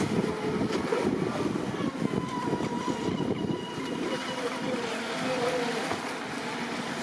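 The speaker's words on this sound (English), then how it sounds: "I love the sound of boats in Australia now." A brushless radio-controlled model boat's motor drones steadily with a low rumble, mixed with the wash of water, continuous and fairly close throughout.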